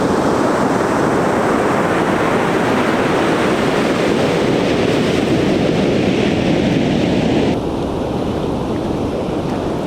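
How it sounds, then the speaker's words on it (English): Rough surf crashes onto a beach in a loud, continuous roar of breaking ocean waves mixed with wind buffeting the microphone, dropping slightly quieter near the end. "look at those waves crashing way out there"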